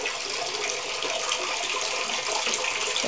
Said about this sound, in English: Into the bathtub we go!